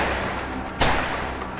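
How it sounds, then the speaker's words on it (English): A single sharp gunshot bursts out midway during an armed police raid on a house, loud and close, cutting through a steady background hum before decaying quickly. "The armed robbery squad members who went to Peter Reid's address were met with gunfire"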